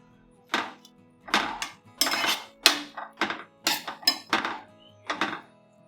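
Potatoes mashed into softened tomato and capsicum in a pan for pav bhaji, giving a string of close, uneven scraping thumps and clinks of a masher against the pan, about nine bursts with short gaps and no talking.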